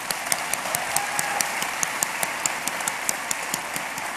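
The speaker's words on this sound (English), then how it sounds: "Can we have another round of applause for Nikki?" An audience at a conference opening ceremony gives a round of applause, steady moderate clapping with a few distinct sharp claps standing out near the microphone.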